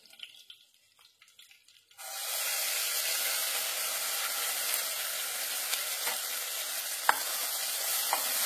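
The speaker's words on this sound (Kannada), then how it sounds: "ಇವಾಗ ರುಬ್ಬಿದ ಮಸಾಲ ಹಾಕೊಂತ ಇದ್ದೀನಿ" Ground masala tipped into hot oil for a Malabar spinach saaru, bursting into a loud, sustained sizzle after a quiet start, with occasional clinks of stirring close by.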